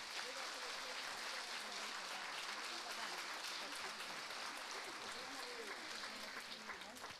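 Dense, steady applause from an audience at a dance show in Płońsk, heard at a distance and fairly faint, holding evenly throughout with no clear break.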